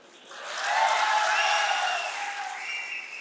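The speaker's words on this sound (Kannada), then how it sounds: "ಬರೀ 4 ಜನ ಚಪ್ಪಾಳೆ ಹೊಡಿತಾ ಇದ್ದೀರಾ." A few people clap at a political gathering, the applause swelling over about a second and then slowly fading, with some vocal cheering mixed in.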